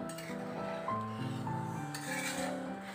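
A spoon stirs potato and egg gravy with added water in a pot, giving steady rubbing and scraping strokes against the metal, close and continuous with a faint sizzle, under a sustained musical background and no talk.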